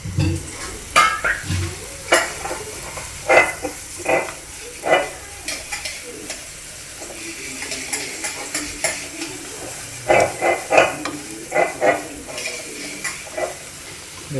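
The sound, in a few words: potato slices frying and being turned in a pan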